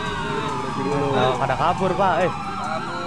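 Ambulance and police sirens wailing in the game GTA 5 roleplay, the rising and falling tones sweeping across the middle while a voice speaks briefly over them.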